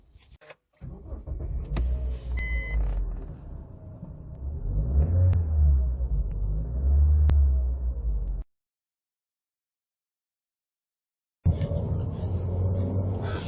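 A 2018 Toyota Avensis T270 with the 1.8 Valvematic engine in Excel trim pulls away and drives, its engine rumbling steadily up to a low cruise. The sound cuts off for a few seconds, then resumes abruptly.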